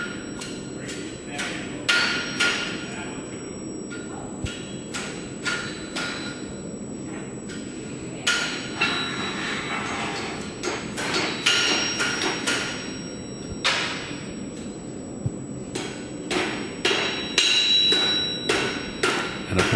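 Hammers strike anvils in a horseshoeing school forge as horseshoes are made, sharp metallic ringing blows in irregular, overlapping bursts from several smiths over a steady workshop din.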